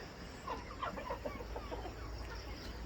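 Chickens and roosters on a commercial farm raising Tiger and native Bangladeshi breeds give a steady run of soft clucks and calls over a constant low hum, moderately close and fairly faint throughout.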